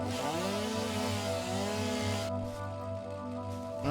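A chainsaw in the video game Satisfactory runs steadily as it cuts through trees, a loud continuous buzzing drone whose pitch rises and falls before settling into a lower idle near the end.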